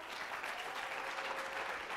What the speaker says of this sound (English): give Seth a round of applause